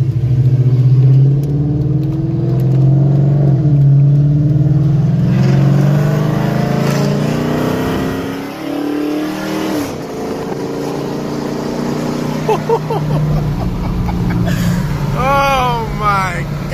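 A car fitted with long tube headers idles with a loud, deep rumble, then revs hard several times, the exhaust rising and falling sharply near the microphone as a voice talks briefly over it.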